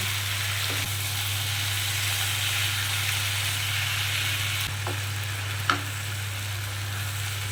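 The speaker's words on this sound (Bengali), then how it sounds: "এটাকে ভালো করে মিশিয়েও নেবো আর একটু ভাজা ভাজা করে নেব" A Malabar spinach curry with egg and vegetables sizzles steadily in a hot pan while being stirred, with a constant frying hiss, a low stove hum underneath, and a few sharp scrapes of the spatula against the pan.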